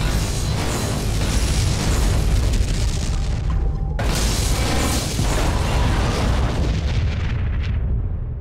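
Borg vessel exploding in Star Trek: Legacy, a loud sustained roaring boom with dense rumbling debris, cut by a second blast midway that rolls on and fades out at the end.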